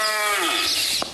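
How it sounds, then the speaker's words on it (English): A cow lows once over a continuous background of harmonic chanting or singing at an outdoor devotional gathering, its call blending into the music rather than standing out sharply. "That cow you might hear every now and then"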